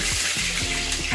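Green chillies and ginger sizzle steadily in hot oil in a home kitchen. The frying crackle is close and continuous through the short stretch, with no talk.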